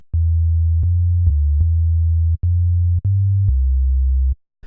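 Steady synthesizer tone with chorus, programmed in Ableton, holding loud sustained notes that step between pitches with brief gaps, alone and without talk.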